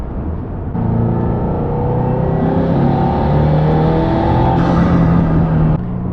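A 2022–2024 Subaru VB WRX fitted with Perrin equal length headers revs up, a loud continuous engine drone climbing in pitch as it pulls past 4,000 rpm, then cutting off near the end.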